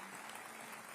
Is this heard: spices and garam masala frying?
no